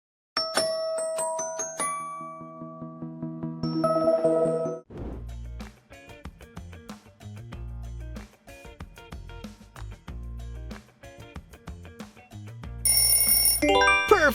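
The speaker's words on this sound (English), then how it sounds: "That's BlackBerry." A BlackBerry smartphone ringtone plays alone as a bright electronic melody of chiming tones, opening with sustained notes before moving into a quick, rhythmic run of plucked, bell-like beeps over a punchy low beat.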